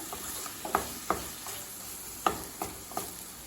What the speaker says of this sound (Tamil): ஹை ஃப்ளேம்லேயே வச்சுட்டு நல்லா வதக்குனீங்கன்னா போதுங்க. மஷ்ரூம் நல்லா வெந்துடும்.